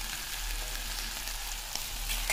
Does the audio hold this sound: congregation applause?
no